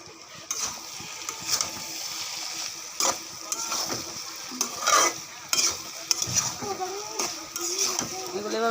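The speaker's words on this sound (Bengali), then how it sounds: "এগুলো এভাবে ভাজা ভাজা করে নিব।" Ground spices made from cinnamon, cardamom, garam masala and bay leaf are dry-fried and stirred in a pan. A soft sizzle runs under repeated scraping strokes that come close and irregularly, with some speech mixed in.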